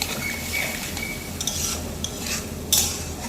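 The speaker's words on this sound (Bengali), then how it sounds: "নিচে যেটুকু বসেছে সেটুকু খুন্তি দিয়ে খুব ভালোভাবে তুলে নেব।" A spatula stirs and scrapes ghugni, a spiced dried-pea curry, loosening the bits stuck to the bottom of the pan in a steady run of scrapes with a light sizzle underneath and one sharper metallic scrape near the end.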